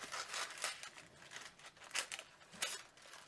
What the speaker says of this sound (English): So you're going to cut it with your scissors.